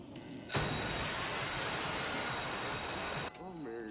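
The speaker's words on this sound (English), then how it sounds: "Someone's ringing my door?" A bright electronic bell rings continuously for about three seconds, loud and close, then stops and a voice speaks.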